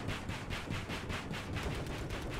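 Steady rapid gunfire from the PC video game Battlefield 4 on the Guilin Peaks map, a dense rhythmic stream of shots with no voice over it.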